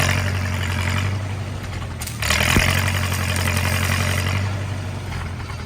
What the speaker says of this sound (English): I'm gonna crank it to 11 on the voltage setting and try striking an arc